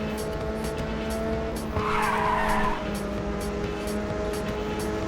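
A car skids with a broad tire-squeal burst in Ridge Racer on the PSP, sliding for about a second over the steady drone of the racing engine and game music.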